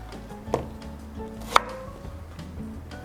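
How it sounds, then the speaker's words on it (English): Two sharp knife cuts through leeks on a cutting board, about a second apart, with quiet kitchen background between them. "I'm going to slice them up and put them straight into the colander"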